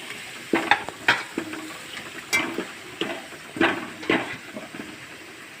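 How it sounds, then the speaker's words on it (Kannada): Garlic and onions fry in oil while a spatula stirs and scrapes the pan, sharp intermittent clacks over a soft, steady sizzle. "ಬೆಳ್ಳುಳ್ಳಿ ಹಾಕ್ಕೊತಿದ್ದೀನಿ, ಸ್ವಲ್ಪ ಕಲರ್ ಚೇಂಜ್ ಆದ ಕೂಡಲೇ ಈರುಳ್ಳಿನ ಹಾಕ್ಕೊತಾ ಇದ್ದೀನಿ."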